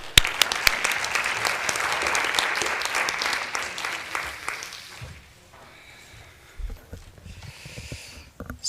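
An audience at an inflammatory bowel disease research talk applauds to welcome a speaker. The clapping is loud and dense at first and fades over about five seconds, leaving a quiet room with a few faint rustles and thumps.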